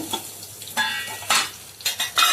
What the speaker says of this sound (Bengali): লাল লাল করে ভেজে নেবো সয়াবিনটা